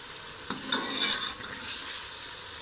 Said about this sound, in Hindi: इस तरह आप फ्राई करके बनाएंगे तो लोबिया बहुत मज़ेदार बनता है।